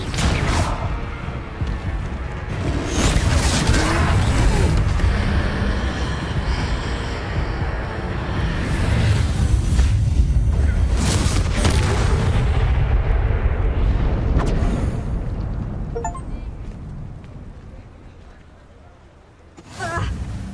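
Spell explosions from the wizarding video game Hogwarts Legacy, a dense run of booming blasts and crashes that fills most of the stretch, with a few sharper bursts standing out before a brief lull near the end.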